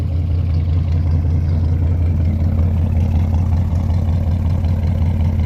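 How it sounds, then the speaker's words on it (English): A car with a 400 engine idles with a slightly choppy, lumpy rhythm, a loud, close, steady low rumble with no talk over it. "this thing has a little bit of a chop to it with its 400"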